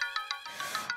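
A phone rings in a film scene with a bright, repeating electronic ringtone: short chiming pulses in quick rhythm, heard alone and fairly close.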